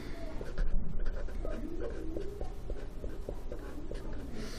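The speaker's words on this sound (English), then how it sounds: "so let's write that down" Hand-written notes on exponential decay, a pen scratching steadily across paper up close, with a faint background hum and a few soft voice sounds.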